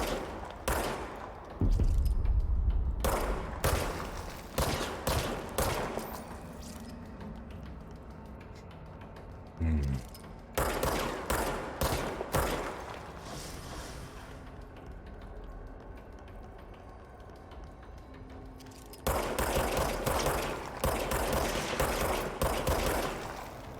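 Video game gunfire in bursts of rapid shots, loud and close, with clusters of firing separated by brief lulls and a few single shots between volleys.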